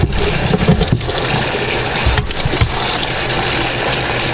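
Hot water rushes and splashes steadily while a brush scrubs carburetor cleaner off Autolite 4300 carburetor parts from a 1968 Mercury, a loud, continuous wash with a few sharper knocks.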